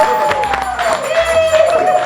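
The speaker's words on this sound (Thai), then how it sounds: "โอเค ปรบมือ" A studio audience claps and cheers briefly at a talk show, a loud burst of applause mixed with voices and talking throughout.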